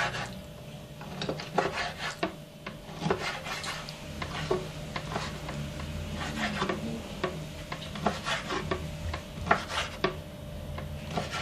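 A knife chops membrane-trimmed liver into cubes on a board in a home kitchen, producing a run of irregular, fairly close taps and scraping cuts without any talking.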